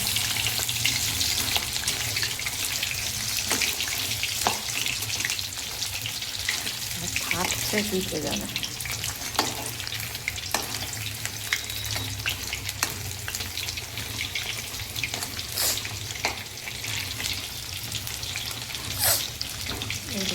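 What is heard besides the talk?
chicken pakoras deep-frying in oil for chilli chicken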